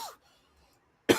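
A person coughs: a faint trailing cough at the start, a near-silent pause, then one sharp, loud cough close to the microphone at the end.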